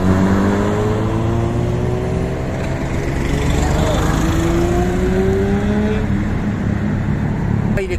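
Cars passing on a road near Cartagena in Spain, a continuous loud whoosh of traffic with engines rising and falling in pitch as vehicles go by close, the flow unbroken throughout.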